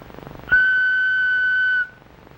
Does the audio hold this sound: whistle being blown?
yes